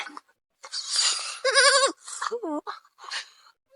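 Goats bleat nearby, several wavering cries in quick succession, with short quiet gaps between them.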